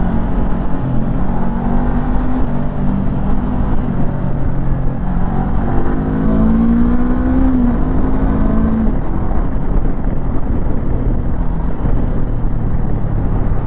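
A 2024 Honda NX500 adventure motorcycle ridden in first gear, its engine droning loud and steady with a brief rising pitch midway, heavy wind and road rush throughout, no voice.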